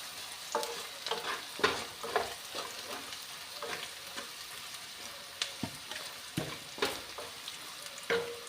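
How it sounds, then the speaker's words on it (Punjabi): Leafy greens with crushed red chili are stirred in a hot pan: a steady sizzle with repeated sharp spatula scrapes and clacks against the pan, close and fairly quiet, with no talking. "ਹੁਣ ਇਹਦੇ ਵਿੱਚ ਪਾਵਾਂਗੇ ਲਾਲ ਮਿਰਚ ਦਰਦਰੀ ਜੀ ਕੁੱਟੀ ਹੋਈ ਹੈ ਮਸਾਲੇ ਦੇ ਵਿੱਚ ਚੰਗੀ ਤਰ੍ਹਾਂ ਕਰ ਦਾਂਗੇ ਮਿਕਸ"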